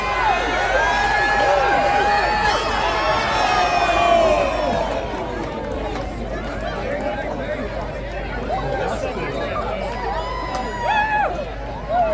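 A large crowd at an outback race meet in Marble Bar, Pilbara, Western Australia, cheers and shouts loudly, a busy wash of overlapping voices and whoops that swells early then stays steady.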